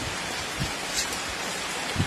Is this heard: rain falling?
yes